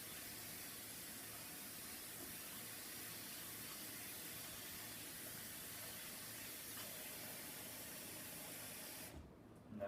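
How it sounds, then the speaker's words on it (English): Running tap water pours steadily over hands being rinsed during a handwashing demonstration, a continuous close hiss that stops abruptly just before the end. "now I'm going to rinse my hands"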